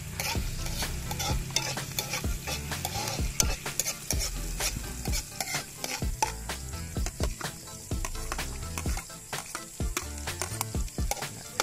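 Garlic being sautéed in a pan at a Filipino home cooking spot, a steady sizzle and frying crackle under repeated scraping and stirring strokes, close and fairly loud with no talking.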